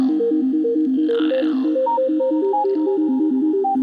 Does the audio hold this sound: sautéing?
no